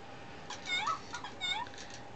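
A Fingerlings interactive toy plays two short synthetic cat meows in quick succession, light and chirpy, close by with faint background hiss.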